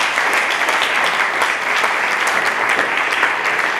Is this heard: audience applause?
yes